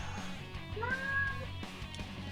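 A cat meows once, a drawn-out rising and falling call, fairly close but soft, over a low indoor hum with faint background noise.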